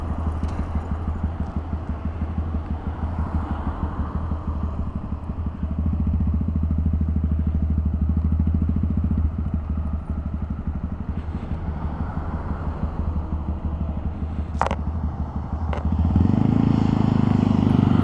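A Honda Grom motorcycle rolls along slowly, its small engine putting out a steady low drone that stays close and continuous, rising in level near the end.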